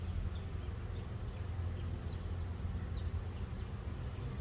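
A steady, dense insect hum of a honeybee swarm, many bees buzzing together, continuous and fairly close, with no voices.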